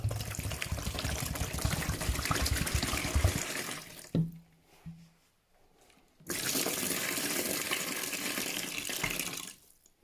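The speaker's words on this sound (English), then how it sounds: "3 litres of water." Three litres of water pour steadily into a container to make substrate for a bioactive reptile enclosure, a continuous splashing stream that stops for about two seconds and then resumes, fairly quiet and without talk.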